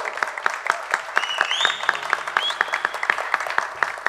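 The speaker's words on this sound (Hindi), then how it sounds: "वॉल्टेर के लिए जोरदार तालियां हो जाए।" A concert crowd at a tribute show applauds a trumpet player with rhythmic, crisp clapping and a couple of whistles rising over it.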